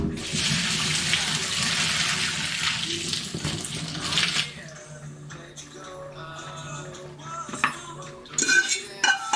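Hot pasta water is poured from a pot into a kitchen sink, producing a steady rushing splash for about four seconds, followed by clattering metal pots and utensils, close and moderately loud.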